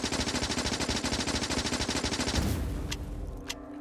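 Rapid automatic gunfire from a submachine gun in Factorio, aimed at a stone wall, rattles in a steady fast burst for about two and a half seconds, then stops, leaving a ringing tail and a couple of faint clicks.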